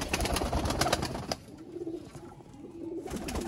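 Master Abdullah strain Sialkoti pigeons coo in low, rolling phrases, a couple of soft throaty calls rising out of a dense, noisy backdrop of other birds.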